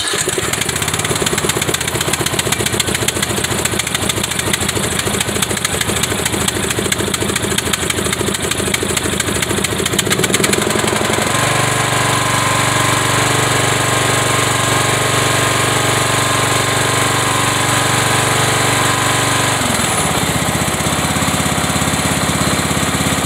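A small Briggs gasoline engine runs loudly and continuously with a rapid rattling, then settles into a steadier, lower idle partway through.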